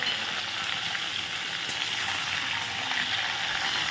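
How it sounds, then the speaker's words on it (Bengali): Potatoes and onions fry in oil tempered with black cumin, a constant dense sizzle close by that stays even throughout, with no voices. "আলু পেঁয়াজটা ভাজা হোক"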